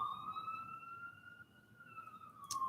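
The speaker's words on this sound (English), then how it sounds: "The sound of a siren" A wailing siren holds a steady, sustained tone, rising and falling slightly over a few seconds, with a soft background rumble and no talking.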